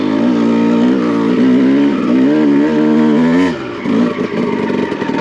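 A Honda CR250 two-stroke motocross bike lugs along in second gear on a steep hillclimb, its low throbbing engine note loud and close, wavering with throttle before dipping and sputtering near the end.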